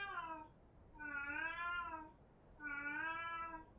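A female cat calls insistently for attention: the tail of one meow, then two long wavering cries about a second and a half apart, close and unaccompanied.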